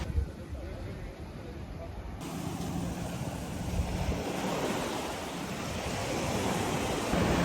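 Ocean surf rolls steadily onto a beach in a big city, a continuous broad wash of waves mixed with wind buffeting the microphone.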